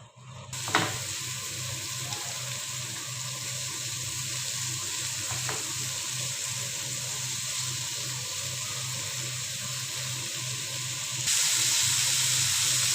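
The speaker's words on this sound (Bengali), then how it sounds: "তেলটা গরম হয়ে এসছে এখন আমি এটাতে চিংড়িটাকে একটা একটা করে সাজিয়ে দিচ্ছি" Prawns sizzle steadily in hot oil for a tomato do-pyaza, a close, continuous frying hiss that swells louder near the end, with a couple of brief clinks as pieces are laid in.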